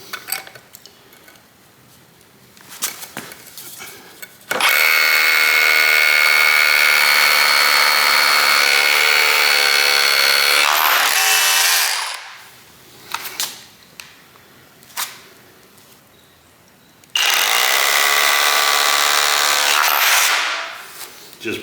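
A Ryobi SDS rotary drill with a 3/16 bit and a 4 amp-hour Edge battery bores into material in two long, loud bursts of steady grinding and whirring, with quieter handling noise and pauses between them.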